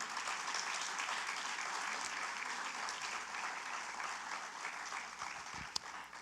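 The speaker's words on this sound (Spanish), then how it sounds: "dale un aplauso al Señor" A church congregation applauds continuously, a steady wash of many hands clapping in a large room, ending with a sharp thump.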